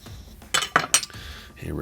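A knife and metal utensils clink briefly against a plate or board while a smoked sirloin tip roast is cut through the middle, a few sharp close taps with no talking.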